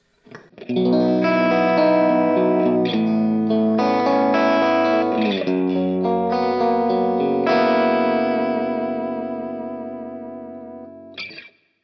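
A heavily distorted electric guitar through a Kemper profile of a Dr Z amp rings out in sustained chords with a slight chorus shimmer, slowly decaying before a brief final scrape.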